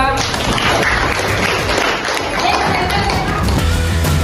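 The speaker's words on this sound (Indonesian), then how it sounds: "Beri tepuk tangan teman-teman semua." Classmates clap for a group presentation in a classroom, a short burst of brisk, slightly uneven applause mixed with taps and thumps, loud and close throughout.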